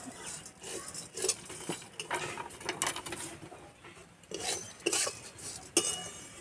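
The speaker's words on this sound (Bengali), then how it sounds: "এবার আমি চিড়ে দিয়ে দেবো। হালকা আঁচে কিছুক্ষণ এইভাবে ভাজবো।" Flattened rice (chire) stirred and dry-fried in a pan over low heat, with a spatula scraping and clinking against the metal in irregular bursts of dry rustling, moderately close and fairly quiet.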